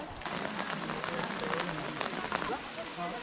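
Steady rain pattering on a surface, a dense hiss with scattered drops, and some voices faintly mixed in.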